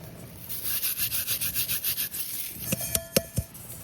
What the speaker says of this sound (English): I'll just rub them between my fingers and let the seeds drop